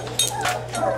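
Vizsla puppy whimpering in a few short, high, thin whines, close by, over a low steady electrical hum.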